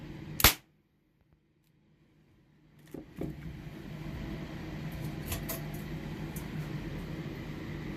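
A homemade reloaded pistol primer goes off once in a test, a sharp loud crack near the start, followed by a few seconds of near silence before a steady low background hum and faint clatter resume.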